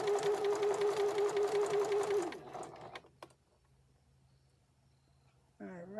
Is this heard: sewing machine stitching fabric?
yes